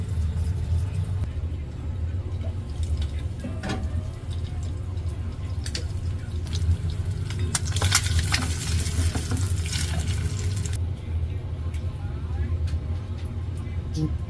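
A homemade hamburger patty and an egg fry and steam in a pan, giving a steady close sizzle with occasional pops and scraping while a person talks over it.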